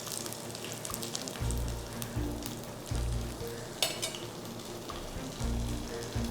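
Omapodi dough frying in oil in a kadai, a steady close sizzle with bursts of bubbling as strands are pressed in and turned, continuous throughout.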